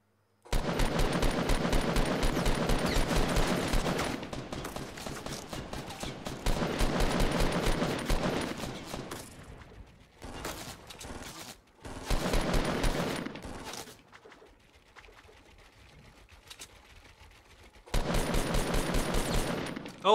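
Automatic gunfire in the battle royale game Fortnite, long rapid bursts separated by brief pauses and scattered single shots, loud and dense throughout.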